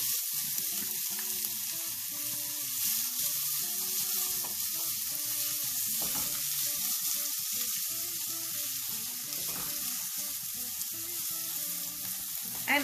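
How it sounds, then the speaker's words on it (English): Onions fry in hot oil with cumin seeds and bay leaves, a continuous close sizzle and crackle with occasional stirring scrapes, steady throughout with no talking. "I'm going to now add the onions."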